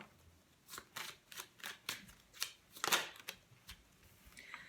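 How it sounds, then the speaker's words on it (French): Tarot cards are handled and laid down in a quick run of crisp flicks and soft slaps, close and fairly quiet, with no talk. "Allez, on va recouvrir ces cartes."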